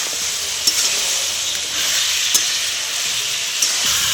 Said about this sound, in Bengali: আলুটা দিয়ে দিলাম, আমি ভালো করে কষে নেব।